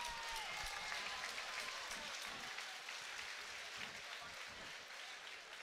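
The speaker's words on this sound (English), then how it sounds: "How about a round of applause for these two great fighters" At a mixed martial arts event, the arena crowd claps and cheers for two fighters after a three-round bout. The broad, fairly distant ovation holds steady for several seconds.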